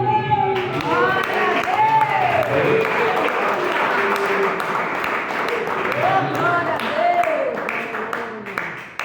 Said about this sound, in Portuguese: Pode se assentar, batendo palmas